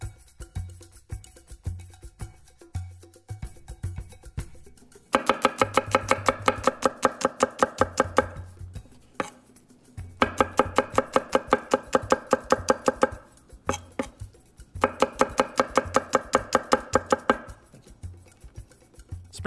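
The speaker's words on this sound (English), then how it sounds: "mince 3 cloves of garlic" A knife minces three garlic cloves on a cutting board in rapid, rhythmic bursts of sharp taps, close and crisp, separated by short pauses and slower scattered chops.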